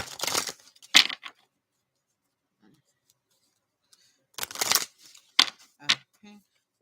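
Two bursts of crisp riffling shuffles of tarot advice cards, separated by a few seconds of near silence, close and fairly loud.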